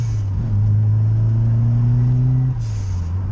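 A Series 1 Ford Escort RS Turbo pulls hard along Military Road on the Isle of Wight, its engine note rising steadily under load, then easing with a brief turbo whoosh near the end, loud and close.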